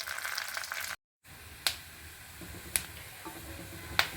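Tamarind, ginger and chillies fry in a pan until browned, with a faint, steady sizzle and occasional sharp ticks of a utensil against the pan after a brief silent gap.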